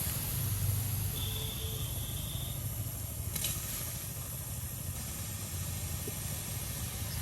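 Shrimp hitting a hot pan on a rural village stove give a steady, loud hiss of frying that holds evenly throughout, with a brief brighter burst partway through.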